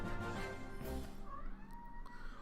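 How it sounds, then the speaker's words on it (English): A cat meows in the Ni no Kuni II: Revenant Kingdom game, a couple of drawn-out, wavering cries over steady in-game background music. "She's not crying. She's meowing."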